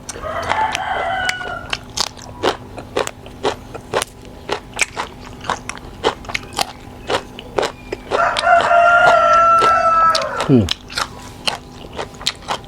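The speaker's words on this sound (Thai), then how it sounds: "ขันข้างกันใกล้กันแล้ว" A rooster crows twice nearby, loud and drawn out, during an outdoor meal of grilled pork intestines, with sharp crackling and biting clicks scattered throughout.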